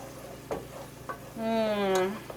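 A spoon stirring creamy keto mushroom soup in a pot, with a few soft scrapes and bumps and a low simmering hiss, plus a brief tonal squeak or voice-like sound midway.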